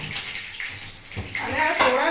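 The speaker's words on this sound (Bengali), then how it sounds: "মাছকে কয়েকটা ভালো করে ধুয়ে নিচ্ছি" Pieces of fish are washed in water, with close splashing and sloshing that rises toward the end, and someone speaks over it.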